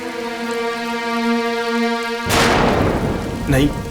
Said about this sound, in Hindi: इतनी बारिश हो रही है, इतना अंधेरा है बाहर